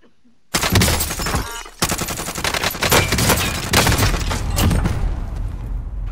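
Rapid bursts of close gunfire in Call of Duty: Warzone as the player gets shot, a sudden loud barrage after a brief quiet start that pauses and then keeps crackling densely throughout.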